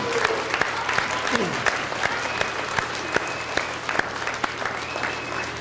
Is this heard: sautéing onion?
no